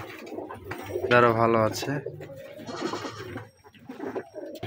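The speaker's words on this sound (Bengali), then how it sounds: "আজকে দেখাবো আপনাদেরকে 5 পিস মাদি কবুতর প্লাস একটা নর।" Rajshahi Giribaj pigeons, a group of five females and one male, give a close, clear cooing call in a short rolling burst, with someone speaking before and after.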